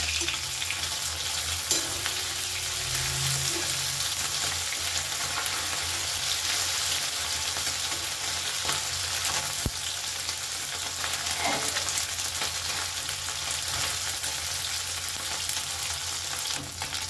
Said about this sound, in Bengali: এভাবে বাকি মাছগুলো আমি ভেজে নেব।